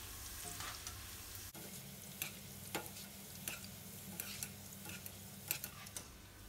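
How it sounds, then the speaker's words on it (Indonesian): Steady quiet sizzle of garlic frying in oil, with scattered soft ticks and pops from stirring; no voices. "goreng bawang putih terlebih dahulu karena kita mau ambil aromanya"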